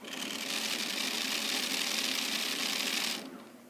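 A loud buzzing rattle from the vibration motor of a Razer Onza game controller, steady for about three seconds before cutting off abruptly, with no voices.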